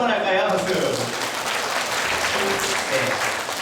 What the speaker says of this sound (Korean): 우리 박수 한번 할까요?